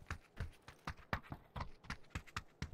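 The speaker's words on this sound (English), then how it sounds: "I hear footsteps." Players' footsteps pound in a fast, steady rhythm while running in a squad shooter game, crisp and fairly close against a quiet background with no talking.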